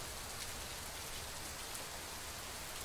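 Heavy rain pours down in Kalaburagi during a storm, a steady, dense hiss of falling water with no breaks, no thunder and no voices.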